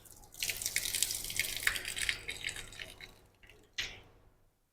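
Water running from a tap at a mosque ablution area in Malaysia, a faint splashing gush that fades out, followed by a short final burst.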